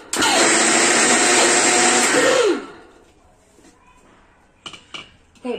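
A mixer grinder loudly whirs for about two and a half seconds as it grinds soaked wheat for kurdai, then the motor cuts off and spins down, followed by a few soft clinks.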